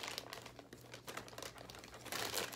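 Plastic bag material, like thin store bags, crinkles and rustles as it is handled, a quiet, close, continuous crackling texture that swells slightly toward the end.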